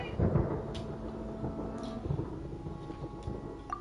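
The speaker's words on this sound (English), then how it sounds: "Ah! Paimon, here's Thunder!" Thunder in the video game Genshin Impact rumbles low and steady for a few seconds, with a heavier burst near the start and faint crackles over a dense, continuous roll.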